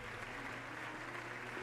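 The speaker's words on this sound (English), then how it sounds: "The applause that never ends!" Applause from a cutscene in the video game Trails Beyond the Horizon, a steady faint wash of clapping that continues without a break.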